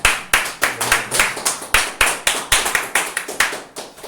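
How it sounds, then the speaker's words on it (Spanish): A church congregation claps for the Lord after a closing prayer, the hands striking together in a strong, evenly spaced rhythm of about fourteen sharp claps over four seconds. "un fuerte aplauso al Señor"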